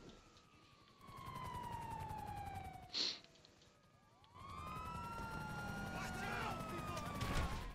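Police car sirens wail and sweep in a video game, rising and falling through the scene amid engine roar and sharp bursts like gunfire and an explosion, with voices talking over the action.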